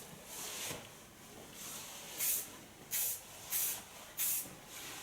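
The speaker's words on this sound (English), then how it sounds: "We finish with the strong hairspray." Strong hairspray is sprayed onto a model's medium-long hair in short hissing bursts. One longer spray comes first, then four quick, evenly spaced puffs close by.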